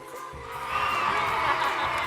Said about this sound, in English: Round of applause for Miss on my left.